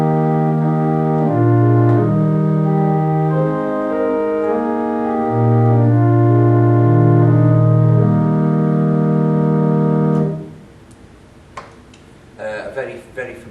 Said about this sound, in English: The diapason is the fundamental sound of every church organ